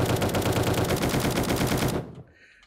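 Full-auto tactical assault rifle in 7 Days to Die fires a fast, continuous burst of rapid shots, loud and close, for about two seconds before cutting off into a brief fading tail.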